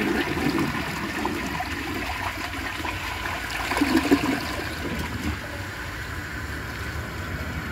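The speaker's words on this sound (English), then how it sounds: "I'm gonna hold the handle and just use whatever water is in the tank" A 1949 Alamo Pottery toilet flushed using only the water left in the tank, a steady close rush and gurgle of draining water that swells briefly midway and then settles into a trickle.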